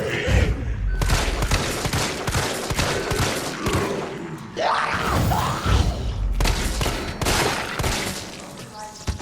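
G19 handgun shots in Resident Evil 3 Remake ring out after a perfect dodge, several sharp loud reports spaced through the stretch amid in-game impacts, groans and scattered effects, with no talk over them.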